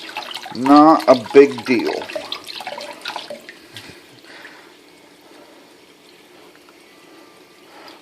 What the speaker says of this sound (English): just make sure you get everything nice and rinsed